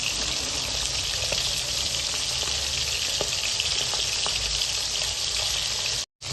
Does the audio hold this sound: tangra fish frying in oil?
yes